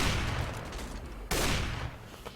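Rapid gunfire from a Counter-Strike: Global Offensive warm-up at an ESEA Premier 2016 match, dense overlapping shots with a sharp louder burst midway, continuous and close throughout.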